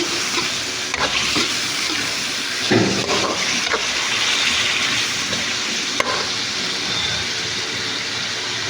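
Chop suey with oyster sauce is stirred in a pan, giving a steady broadband sizzle with scattered scraping strokes of the utensil against the pan, close and fairly loud throughout, with no talking.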